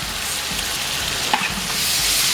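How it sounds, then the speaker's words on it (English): A seasoned turkey wing sears in a pan over a high flame, giving a steady, loud hiss and crackle of frying that swells slightly toward the end, with no talking. "you're going to take your seasoned turkey wing and you're going to put it in the pan"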